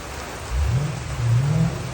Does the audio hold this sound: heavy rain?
yes